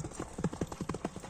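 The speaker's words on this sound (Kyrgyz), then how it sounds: "атың жакшы чуркайт экен" A running horse's hooves clip-clop in a quick, even rhythm of about eight beats, faint and close-sounding.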